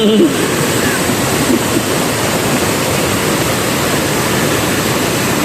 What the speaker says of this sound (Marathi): इथून आता पाणी जात आहे जास्त खूप पाऊस लय लागला आहे गावाला